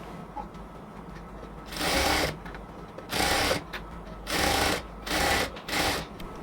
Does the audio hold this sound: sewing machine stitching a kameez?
yes